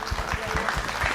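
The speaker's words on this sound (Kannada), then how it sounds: "ನಮ್ಮ ರಿದಮ್ ಸೆಕ್ಷನ್ ಅವ್ರಿಗೆ ಒಂದು ಬರಲಿ ಚಪ್ಪಾಳೆ." Audience applause at a live televised singing reality show, a short burst of clapping with scattered hand claps for the rhythm section, fairly dense and steady over about a second.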